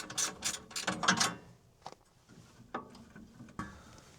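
A ratchet wrench works on the 10mm bolts of a yellow guard on a MechMaxx SM32, first with a quick cluster of close metallic clicks and then a few sparse single clicks and clacks in a quiet space.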